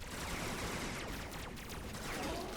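Sustained, dense gunfire in Warframe strikes the player's Excalibur, a loud continuous barrage of overlapping shots with no pauses.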